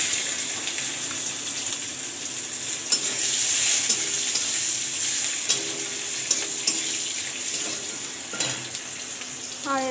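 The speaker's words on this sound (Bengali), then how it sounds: "এবার একটু পেঁয়াজ কুচি দিয়ে দেবো" Chopped onion added to hot oil with cumin seeds and bay leaf, frying with a steady close sizzle and occasional stirring clatter, no talk.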